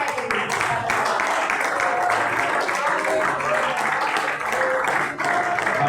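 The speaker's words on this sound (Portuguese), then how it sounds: "Vamos receber com palmas bem alegres." A Brazilian church congregation at a worship service claps steadily and joyfully in a dense wash, with voices mixed into the applause.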